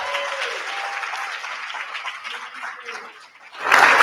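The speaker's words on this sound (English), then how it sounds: "Please give her a round of applause." A room full of people claps steadily, a dense patter of applause that softens midway before swelling louder again near the end.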